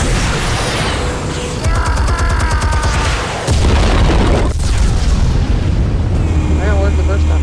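Explosives detonating in Batman: The Telltale Series, heavy booms and rumbling blasts layered with whirring mechanical sounds and a deep sustained low rumble, loud and continuous with a voice briefly heard among the effects.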